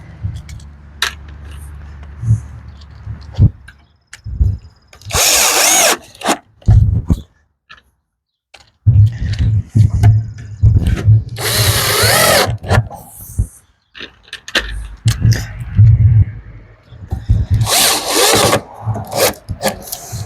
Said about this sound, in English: Put some screws in there.